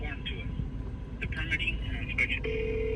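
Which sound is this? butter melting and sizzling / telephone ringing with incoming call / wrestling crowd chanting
telephone ringing with incoming call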